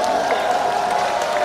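A crowd at an outdoor evening concert in Muan applauds and cheers to welcome a duo, a steady loud wash of clapping with some whoops throughout.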